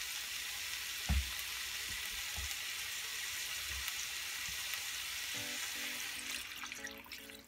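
Water is poured into a hot skillet holding fish and rice, giving a quiet sizzling hiss with a few soft low thuds and clinks.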